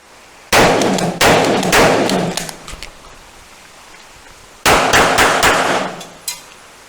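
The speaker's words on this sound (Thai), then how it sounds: "เรื่องการทดสอบคอมเพนเซเตอร์นะครับของปืนลูกซองนะครับแล้วก็ยิง" Loud, close shotgun blasts from a gun fitted with a compensator, fired with 00 buck shells during combat-style shooting practice. Sharp reports come in two quick groups separated by a pause, each ringing out briefly.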